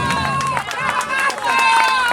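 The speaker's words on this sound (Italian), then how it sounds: "Senti che bel applauso che è arrivato." An audience at an orchestra concert breaks into warm, sustained applause with scattered cheers and chatter, a dense continuous wash of clapping close by.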